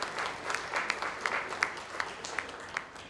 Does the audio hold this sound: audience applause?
yes